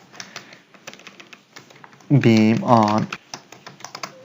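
Computer keyboard typing during AutoCAD Civil drafting, a scatter of light clicks throughout, with someone speaking briefly in the middle.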